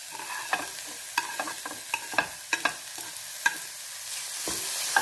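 Tomatoes and salt being roasted in a pan for Marathi methi amti, with a spatula scraping and stirring in irregular strokes over a soft, steady sizzle, close and alone without voices.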